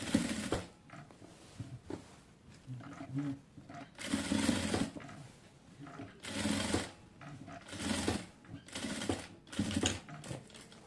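A sewing machine stitches lace onto a boat neckline in several whirring bursts separated by short pauses, close and fairly quiet.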